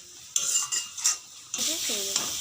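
A metal spoon clinks and scrapes in a pan of frying spices for a fish curry, then water goes in with a sudden loud sizzling rush that keeps hissing; a brief voice sounds near the end.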